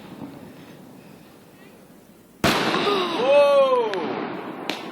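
Fireworks going off: a sudden loud burst midway, followed by rising and falling whistling tones and crackle, close and sustained after an initially quiet stretch.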